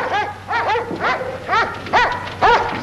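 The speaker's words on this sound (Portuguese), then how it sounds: "Pedro, acalme os cachorros." Dogs bark in a steady run of sharp, close yelping barks, about two per second, loud and alone with no talk.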